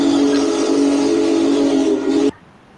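Union Pacific steam locomotive 4014 blows a loud, steady whistle tone that holds for over two seconds and then cuts off sharply into near silence.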